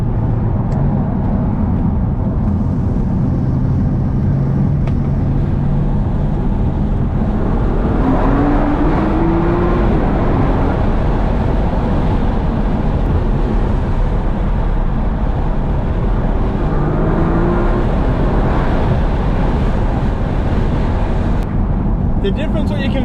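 A Nissan GT-R engine runs in the car while driving, a loud continuous drone with rising and falling tones from acceleration, alongside road and wind noise.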